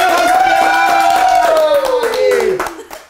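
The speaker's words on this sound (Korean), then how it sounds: "큰 박수" Big round of applause at a year-end party with streamers, scattered hand claps mixed with a prominent sustained sung or shouted voice sliding downward, loud and close, fading near the end.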